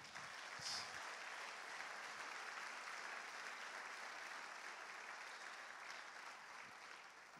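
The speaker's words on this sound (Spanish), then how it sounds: "¿Puede aplaudirle al Señor?" A church congregation during a Spanish-language service applauds in a sustained, even wash of clapping that sounds somewhat distant and fades slightly near the end.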